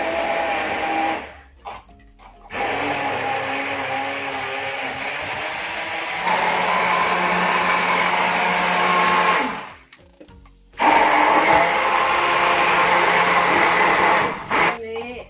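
A blender whirs loudly while making orange juice, running in long bursts broken by short pauses, with people talking nearby.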